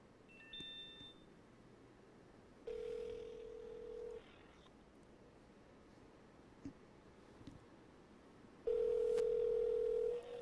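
An outgoing phone call to a Trinidad and Tobago education minister rings out as two long steady ringback tones separated by quiet line hiss, with faint beeps at the start and no voice.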